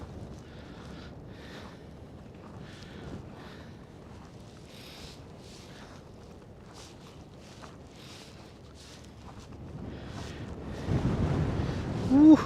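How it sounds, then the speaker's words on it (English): Winter wind buffeting across Coney Island beach, a low, gusty rumble with surf-like wash, steady and moderate, rising into stronger blasts near the end. "that wind, boy."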